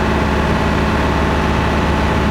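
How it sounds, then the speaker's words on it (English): A Lister engine on a harbor boat runs at a calm, steady idle, a smooth low continuous drone with no voices. "The Lister engine because it's so nice and calm and quiet."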